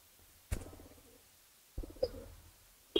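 A pigeon in a home loft gives a few soft, close coos, two separated phrases with a faint chirp, against a quiet background.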